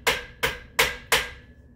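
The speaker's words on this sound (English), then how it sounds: "I just hit it with the hammer to make it go on in" A hammer strikes a metal piece of a 14-inch Mellow bed frame during assembly, four sharp, evenly spaced knocks with short ringing decays, close and alone.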